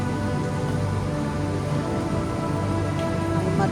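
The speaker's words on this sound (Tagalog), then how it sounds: "Dito lang tayo sa may shelter kasi maulan," Steady rain falls continuously around a shelter, a dense even patter with no let-up and no voices.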